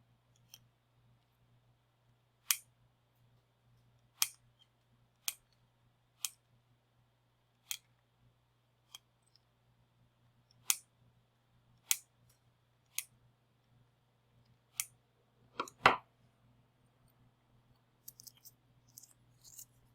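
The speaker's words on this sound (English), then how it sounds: "Once the board is cooled off slightly, we can trim the leads of the LEDs off." Small cutters snip the wire leads of LEDs on a soldered circuit board, a series of about a dozen crisp, isolated clicks spaced a second or two apart, quiet and close over a faint steady hum.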